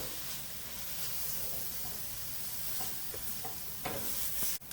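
Onions frying with seafood in a paella pan, a faint, steady sizzling hiss with occasional soft stirring scrapes and a sharp clatter near the end, with no voices.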